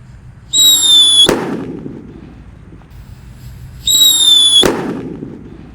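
Two King Thunder firecrackers go off buried in a hole in the ground, each preceded by a high whistling fizz and ending in a sharp, loud bang, spaced a few seconds apart.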